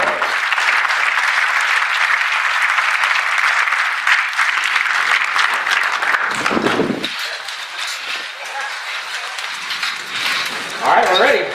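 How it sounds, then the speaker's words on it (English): Sustained audience applause at the Baja SAE Arizona awards ceremony, a dense, steady roar of many clapping hands lasting over ten seconds, easing slightly near the end as a voice comes through. "So please give another round of applause"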